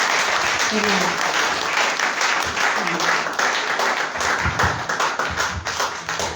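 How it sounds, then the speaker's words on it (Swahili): A church congregation claps steadily, filling the room with dense applause that carries on for several seconds and grows more ragged toward the end. "Tupigie makofi mazuri"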